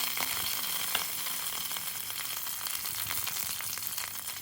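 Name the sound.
green chilies sizzling in hot oil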